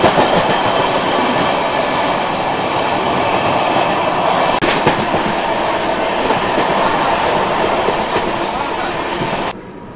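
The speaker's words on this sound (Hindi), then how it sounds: "ट्रेन बिल्कुल अपने रफ्तार में चल रही है, 130 की रफ्तार में चल रही है ट्रेन" Inside a Sealdah–Bikaner Duronto express running at about 130 km/h, a loud, steady roar of wheels and rails persists throughout with faint clicking, easing slightly at the very end.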